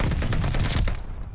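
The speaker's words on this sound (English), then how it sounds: "They're sending mortar shells." Dense video-game battle noise of rapid gunfire mixed with mortar shell blasts, loud and continuous with overlapping bursts, easing slightly toward the end.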